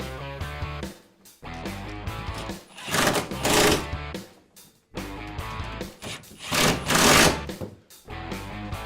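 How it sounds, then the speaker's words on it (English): An impact wrench tightens nuts on the frame of an Otter Outdoors XT Crossover ice shelter. Two separate rattling bursts sound close up, each building and then stopping, with quieter handling between them. "take your ratchet, or in this case we're using an impact, and tighten these down."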